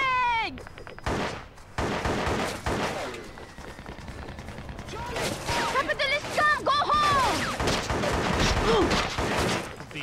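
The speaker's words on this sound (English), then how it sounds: "I'll try the AK out." AK rifle gunfire in the PS2 video game Shellshock Nam '67, bursts of loud shots mixed with battle effects and shouted voices, the firing growing denser toward the end.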